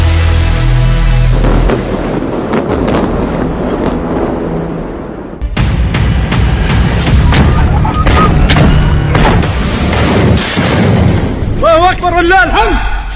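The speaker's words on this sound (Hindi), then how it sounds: "बहुत से धमाके हो रहे हैं।" Loud, dense booms and bursts of explosions from Israel-Hamas fighting roll through the whole stretch, with a voice talking over much of it and a brief dip midway.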